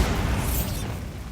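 A Bombarda blast spell in the video game Hogwarts Legacy bursts loud and close, a heavy booming explosion with a rushing tail that fades over about a second.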